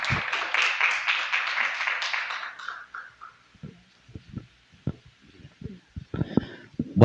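A church congregation applauds for a few seconds, then the clapping thins out and gives way to scattered thumps and a voice speaking.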